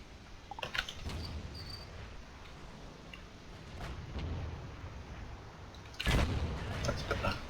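Tank guns firing in World of Tanks while driving a Chinese tier 10 medium tank, a few sharp booming shots standing out over a steady rumbling battle noise, the loudest blast coming near the end.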